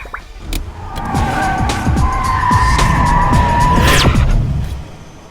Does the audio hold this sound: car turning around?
yes